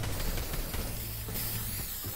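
Spray paint hissing in Fortnite, a steady broadband spray lasting about two seconds over a low game background.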